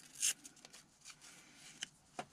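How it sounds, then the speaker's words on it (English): Paper dyed with cabbage has its edge torn by hand in a quiet room, a few short, sharp rips and crinkles, close and fairly faint, separated by pauses. "Tear the edge here a little."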